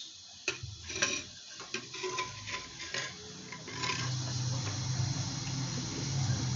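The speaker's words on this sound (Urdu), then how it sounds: "تو گرم مسالے کو ہم تھوڑا سا فرائی کر لیں گے۔" Garam masala fries in hot ghee with a steady close sizzle and bubbling, along with light clicks and taps of stirring. The sizzle grows denser toward the end.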